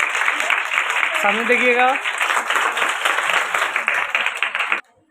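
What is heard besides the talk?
loud applause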